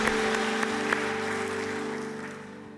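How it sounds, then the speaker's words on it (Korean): Church congregation at a Korean Sunday service applauds together, a steady wash of clapping that slowly fades out, with a sustained organ or keyboard chord held underneath. "박수 올려드리겠습니다."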